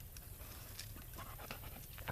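A dog pants with quick, soft, rhythmic breaths on a woodland trail at the Fort Worth Nature Refuge, faint and close with low outdoor background noise.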